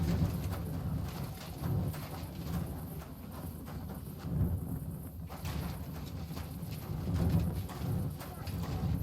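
Horse hooves clip-clop in a steady walking rhythm in the video game Kingdom Come: Deliverance II, with voices talking over them.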